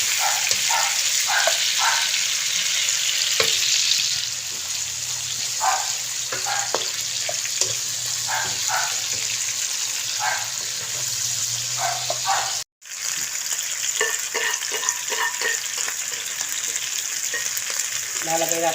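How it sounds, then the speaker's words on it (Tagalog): Quail meat sautés in a hot pan for adobo with a steady, bright sizzle. A spatula stirs it with repeated light scrapes and clicks, close and loud throughout. "Halu-haluin muna natin, gisa-gisa muna natin yung karne ng pugo."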